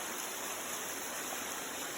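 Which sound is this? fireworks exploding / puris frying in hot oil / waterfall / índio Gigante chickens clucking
waterfall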